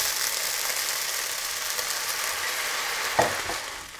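Rice with raisins cooking in a pan gives off a loud, steady sizzle, with one clear knock of stirring near the end.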